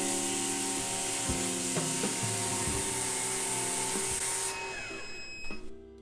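A record cleaning machine runs a five-minute cleaning cycle, a steady mechanical motor hum with faint scraping continuous near the mic, then winds down and stops near the end.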